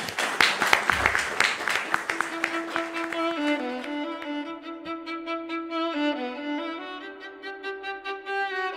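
Applause from an audience, fairly dense and loud for the first three seconds, then thinning as sustained musical tones take over and carry on to the end.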